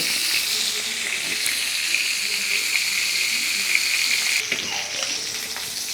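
Stingray fish pieces frying in hot oil in a kadai, a steady dense sizzle with crackling that holds loud and even throughout, with no voices.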